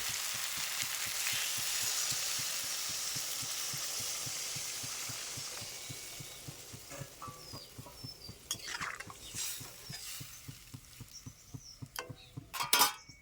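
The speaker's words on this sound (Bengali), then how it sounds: "মাখানো হয়ে গেছে এবার দিয়ে দেবো জল" Water poured into an egg and potato curry in a pan, Bengali village-style cooking: a steady sizzling, frying hiss with rhythmic pulses, easing into quieter bubbling and a few clinks of utensil against the pan.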